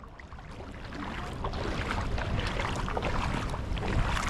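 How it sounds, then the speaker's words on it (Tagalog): Dense, steady roar of heavy rain pouring down on city streets in Dubai, a broad hiss that swells slightly after the first second and stays loud throughout. "So ayan na, lumakas na uli yung ulan."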